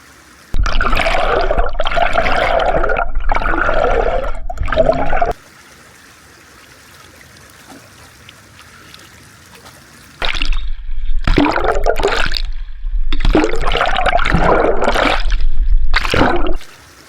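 A DJI Osmo Action 5 Pro in a Telesin waterproof case is dunked into rushing water on a long tripod, giving loud close bursts of churning, gurgling water separated by a quiet muffled stretch.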